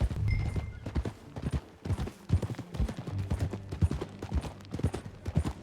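Horse hooves clip-clopping steadily at a riding pace in Red Dead Redemption 2, loud and close, with a brief whinny near the start and no talk over them.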